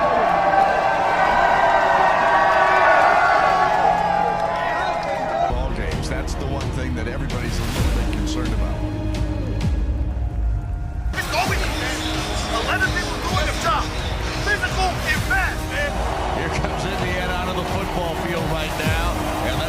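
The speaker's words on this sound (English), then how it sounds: "That's the crowd noise in the background, and it is a home crowd here today, without doubt." Home crowd noise rolls through the stands at an Indiana Hoosiers football game, a broad roaring murmur heard behind ongoing speech with cheering swells and shifting background noise.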